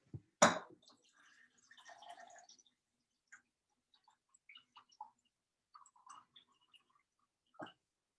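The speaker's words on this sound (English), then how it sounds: "So I'm adding like a cup of water." A cup of water poured onto soaked rice in a blender jar for horchata in a home kitchen: a sharp knock, then a short quiet splash and scattered drips and clinks, close and soft.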